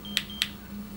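A GE Interlogix Simon XTi security system chimes as a door is opened: two short, bright electronic beeps about a quarter second apart, clear over a low steady hum.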